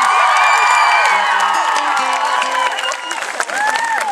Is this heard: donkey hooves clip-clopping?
no